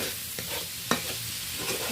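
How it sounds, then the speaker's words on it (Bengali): Chopped onion, green chili and tomato sizzle steadily in a pan, with a spatula scraping and stirring in occasional clicks over the constant frying hiss. "লাল লাল করে ভেজে নেব পেঁয়াজ লঙ্কা টমেটো"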